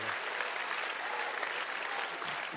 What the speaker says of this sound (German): noch mal einen Applaus geben